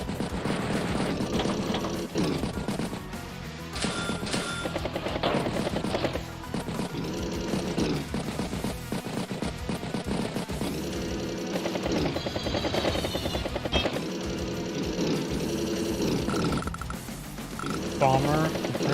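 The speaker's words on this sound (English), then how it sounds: "Battlecopter strikes Battlecopter" A Battlecopter attacks in the strategy game Advance Wars, with whirring rotor and rattling mechanical effects running alongside game music, while a commentator speaks over the sound.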